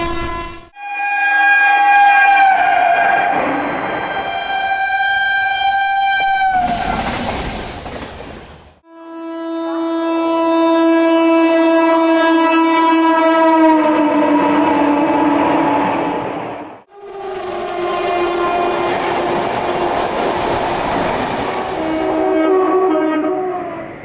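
Swarna Shatabdi Express running from New Delhi to Lucknow behind a Tughlakabad-based WAP-7 electric locomotive, with three long loud horn blasts in sequence.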